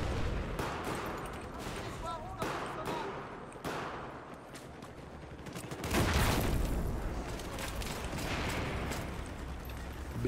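Desert Eagle pistol shots crack repeatedly in a first-person shooter match, sharp bursts scattered through the clip with a denser, louder volley around the middle and constant game noise underneath.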